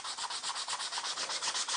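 Leather strop surface roughened by hand with sandpaper to remove tanning residue, giving a steady run of rapid, even rasping strokes, close and alone with no voices.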